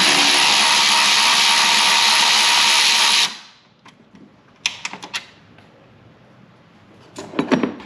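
A power ratchet spins out 10mm bolts on a Jeep Wrangler JL Rubicon hood, a loud steady whir for about three seconds, then stops, followed by scattered clicks and metallic handling clatter.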